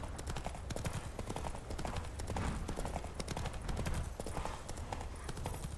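Hooves of a galloping horse in the video game The Witcher 3: Wild Hunt, a steady rapid clip-clop rhythm that continues throughout at moderate loudness over a soft ambient bed, without speech.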